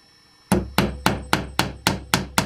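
Nails are hammered into a wooden bird house board, eight sharp evenly spaced hammer blows ringing close and loud after a brief quiet start.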